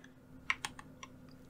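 Keyboard fitted with a honey and milk keycap set being typed on, a handful of soft, close keystroke clicks in a quick irregular burst over a quiet background.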